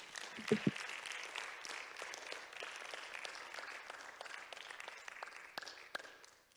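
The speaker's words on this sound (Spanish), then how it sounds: "Vamos a darle un aplauso a Jesucristo en este momento, todos." A church congregation applauds at a Spanish-language worship service, a fairly faint, steady wash of clapping lasting several seconds, with a few sharper claps near the start and scattered louder claps toward the end.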